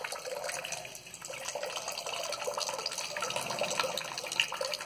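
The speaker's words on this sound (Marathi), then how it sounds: "आता हे पाणी पूर्ण संपल्यानंतरच भांड रिकामं झाल्यानंतरच ही धार पाण्याची जी आहे ती थांबेल" Steady stream of water pouring from a vessel at a Shani temple with Belgian glasswork, a continuous close splashing flow that holds evenly throughout.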